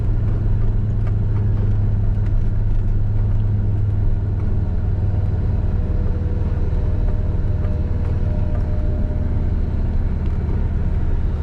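Old truck engine rumbling steadily while driving on a road in Miami-Dade County, a constant loud low drone with road noise throughout and no talk over it.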